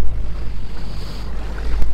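A sailboat motoring at sea with its engine running: a low steady rumble under loud gusting wind buffeting the microphone and rushing water against the hull, with no talk.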